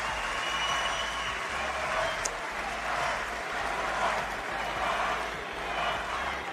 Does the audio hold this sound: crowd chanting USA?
yes